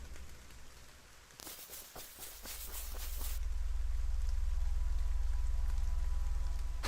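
Steady rain in the horror video game The Forest of Drizzling Rain, a constant hiss with a brief burst of sharper patter and taps partway through, then a deeper, fuller rain rumble settling in, with no talk.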